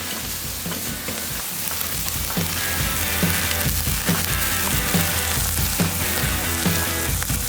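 Meat sizzles loudly and steadily as it sears over the hot side of an outdoor grill in extreme cold, a constant crackling fry with small pops and no voices.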